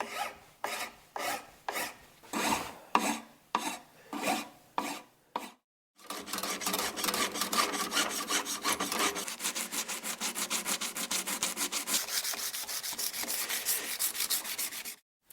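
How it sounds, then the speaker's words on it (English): Rhythmic rasping strokes of a metal file working fret ends on a handmade classical guitar: slow, separate scrapes at first, then a fast continuous rasp running close and clear without any talk. "We'll then file it off the same way we filed down the ends of the frets."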